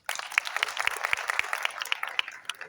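A small audience claps in a brief, sparse round of applause, individual hand claps standing out close by as the clapping thins toward the end.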